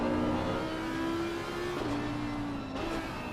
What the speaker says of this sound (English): you might just hear the traction control kicking in as he tries to get the power on